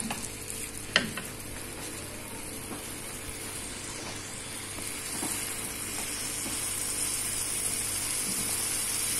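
Vegetables and kofta sauté in a pan, a steady close sizzling hiss with a single sharp clatter near the start and light stirring scrapes throughout.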